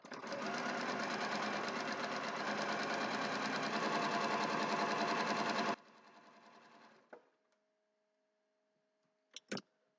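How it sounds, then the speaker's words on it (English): A sewing machine stitches quilt pieces for a thread-spool block, a steady close whirring drone for nearly six seconds that stops abruptly, followed by quiet and a couple of short clicks. "I'm going to go ahead and sew"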